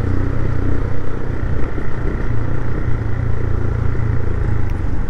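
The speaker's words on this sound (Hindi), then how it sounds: "बाइक का पेट्रोल लगभग ख़त्म हो गया है, बाइक बिल्कुल अटक अटक के चलने लग गई है" A TVS Raider motorcycle nearly out of petrol, its engine running roughly and unevenly in city traffic; a steady, close, loud low rumble that continues throughout with small fluctuations.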